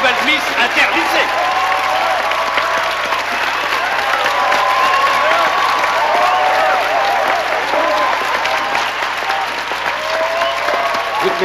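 A crowd applauding and cheering a newly crowned Miss Interlycée at a high school beauty pageant, loud sustained clapping from many hands with voices calling out underneath, continuing steadily throughout.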